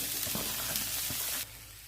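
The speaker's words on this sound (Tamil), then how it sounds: "இப்போ அந்த ஃபைனாக நறுக்கி வச்சுருக்கிற வெங்காயத்தை போடுறேன்." Finely chopped onions sizzle in a hot pan with ginger, garlic and green chilli, a bright steady frying hiss with a few stirring scrapes, dropping quieter near the end.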